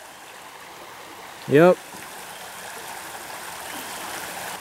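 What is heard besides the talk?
water flowing in Frog Creek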